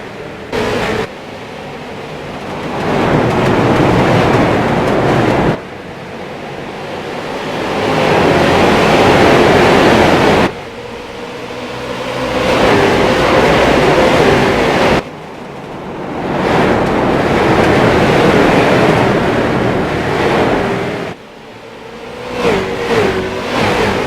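Street stock cars roar off at the green flag at USA International Speedway, a loud, sustained engine drone that swells and fades in repeated waves as the pack passes, with brief dips between passes.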